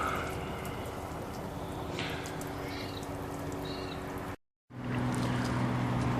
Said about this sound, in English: Still very violent boil at the moment.